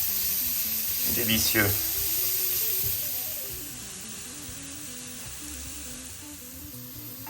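Spices with cinnamon roasting in a pan give a soft, steady sizzle that fades toward the end, with a person speaking briefly over it near the start.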